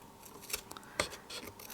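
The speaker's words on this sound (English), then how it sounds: "these scissors are not doing that very well" Scissors cut through thick paper while a gift box is being made, giving a few sharp, irregular snips and crunches across a short, fairly quiet stretch.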